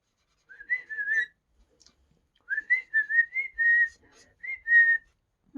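Someone whistles a short tune in clear, sliding notes, two phrases separated by a brief pause, close and clean against silence.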